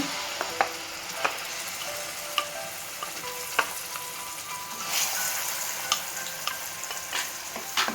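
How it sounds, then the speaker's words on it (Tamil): Mashed mango sautéing in a spoonful of ghee over a low flame for mango burfi, a steady soft sizzle with regular scraping stirs of the spoon against the pan, no voices. "ஒரு ஸ்பூன் அளவுக்கு நெய் விட்டுக்கலாங்க இதில் பார்த்தீங்கன்னா ஸ்லோ ஃப்ளேம்லே வச்சு செய்யுங்க மாம்பழத்தை போட்டுக்கலாங்க மேஷ் பண்ணி வச்சதை"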